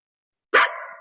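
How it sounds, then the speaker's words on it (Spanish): A single sharp dog bark sounds after a moment of silence, close and loud, with a short ringing tail. "Vamos a escuchar cómo hace el perro."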